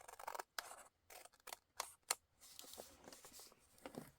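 Scissors snip along the edge of a paper page being trimmed for a junk journal, a quick run of close, crisp cuts with a brief rustle of paper between them.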